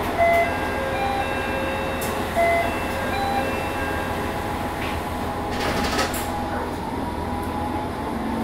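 A Matsuura Railway MR600 series train pulls away with a steady rumble, a few short electronic tones and hissing bursts, moderate and continuous.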